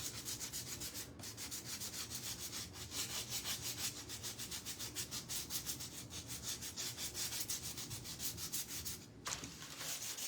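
Rhythmic sanding of wooden spoons, quick repeated rubbing strokes of sandpaper on wood at a steady pace, close but fairly quiet, with a brief pause near the start and another near the end.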